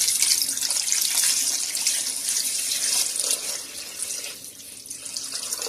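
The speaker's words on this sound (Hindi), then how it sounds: "ये पानी ऐड कर दिया" Water pours in a steady, splashing stream into a pot of mutton nihari, loud and close at first, then easing slightly before picking up again, with no talking.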